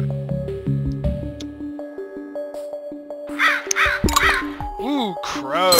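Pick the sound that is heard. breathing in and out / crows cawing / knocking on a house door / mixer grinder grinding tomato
crows cawing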